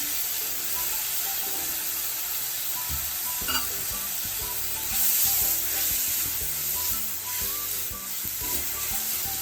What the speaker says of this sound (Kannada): ಈಗ ಆಲೂಗಡ್ಡೆ ಹೆಚ್ಚಿರೋದನ್ನ ಹಾಕ್ತಾಯಿದ್ದೀನಿ.